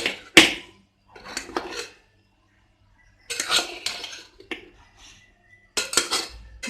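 A metal ladle scrapes and clanks against a cooking pot while flipping freshly steamed chickpea biryani, in several separate bursts of scraping and clinking with quiet pauses between, close and fairly loud.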